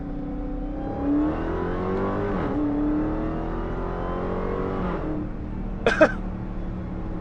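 A 2022 Dodge Charger Hellcat Redeye in sport mode and manual mode accelerates hard while racing a Chevy, its engine a steady loud drone climbing in pitch through gear changes, with a short sharp burst near the end.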